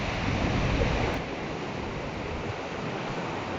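Strong wind buffets the microphone in a steady, loud roar while crossing the suspension bridges at the Storms River mouth, with a slight dip in force after the first second.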